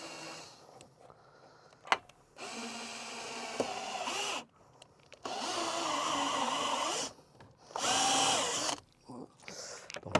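A step drill bores a hole into a car's intake ahead of the air filter, running in three loud sustained bursts separated by short pauses, with small clicks and handling noises in between.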